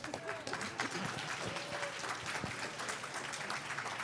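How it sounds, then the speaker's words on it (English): An audience at a panel discussion applauds, a dense, even wash of many hands clapping that holds for the whole stretch, with scattered voices mixed in. "Give yourselves a round of applause for coming out."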